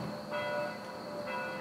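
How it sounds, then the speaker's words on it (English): Church bells ring from a church just behind trees in a French village centre, a steady sustained metallic ringing heard at moderate distance from a chateau's first floor, with no talking. "can you hear the bells?"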